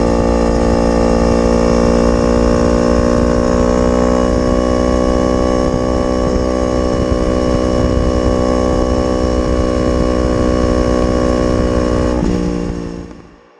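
Crossplane inline-four motorcycle exhaust holding a steady, loud, throbbing note with a dense harmonic drone for about twelve seconds, then cutting off abruptly near the end.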